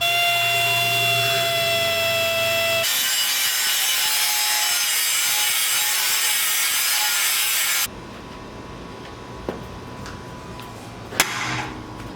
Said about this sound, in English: I'm going to be drilling out from the other side there.